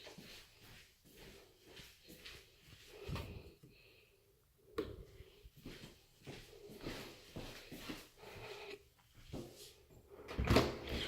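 A house door is handled as someone walks out, with scattered knocks, latch clicks and shuffling footsteps through a quiet room, ending in a sharper, louder bang near the end.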